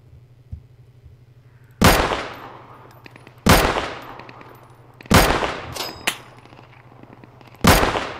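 Loud, sharp gunshots from the Deadside video game ring out alone, five or six cracks spaced a second or two apart, each with a ringing decay over a low steady hum.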